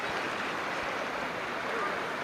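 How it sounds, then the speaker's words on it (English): Swift river water rushes past with white water downstream, a steady, even hiss of flowing current heard from nearby. "Showing an idea of how swiftly the water is flowing."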